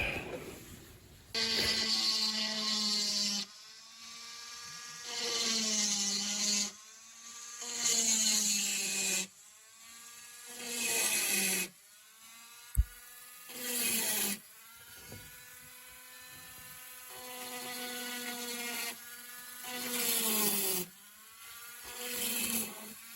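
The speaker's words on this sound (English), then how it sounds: "Now when I drill these holes" A power drill whines in repeated bursts of a few seconds each while drilling holes in fused glass, its pitch rising and falling as it grinds, with short quiet gaps between passes.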